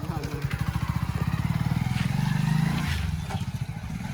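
A motorcycle engine runs close by with a steady pulsing throb that swells toward a rev and then eases off, while people talk over it throughout.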